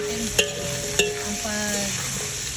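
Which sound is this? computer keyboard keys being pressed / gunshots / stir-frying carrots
stir-frying carrots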